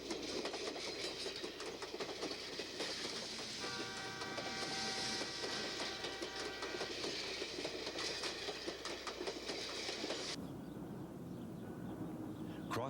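A steam train in operation since 1898 rumbles along the rails through Alaska's White Pass with a steady rhythmic clatter and a brief whistle-like tone, continuous and moderately distant.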